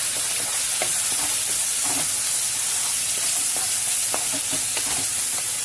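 Water splashed into a hot pan of chicken and potatoes, giving a steady, loud sizzle and hiss with scattered crackles and stirring clatter throughout, no voices.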